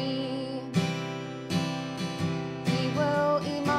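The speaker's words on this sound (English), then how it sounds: "the strumming pattern that we're going to be using in the chorus is going to sound like this" Acoustic guitar strummed through the chords of a song, a rhythmic pattern of ringing down-and-up strokes with sharp attacks at regular beats, played close and alone.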